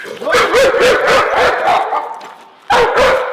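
A dog barks loudly and close by in a rapid, rhythmic string of sharp barks, pauses briefly, then lets out two more.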